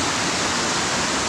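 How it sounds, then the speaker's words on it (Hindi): A mountain stream on the road toward Ladakh rushes with a steady, dense roar of water, close and continuous, with no voices over it. "है पूरा शोर पानी का"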